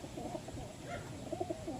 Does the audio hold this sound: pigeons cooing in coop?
yes